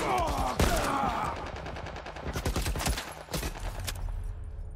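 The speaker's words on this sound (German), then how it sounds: "Der schießt von überall gefühlt." Rapid gunfire crackles in The Last of Us Part 1, with loud overlapping shots and bursts from several directions, some close and punchy, others trailing off.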